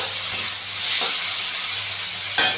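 Tomato and potato sautéing in a pan for a shrimp and cabbage ghonto, giving a steady soft sizzle with a few brief stirring scrapes. There is no talk.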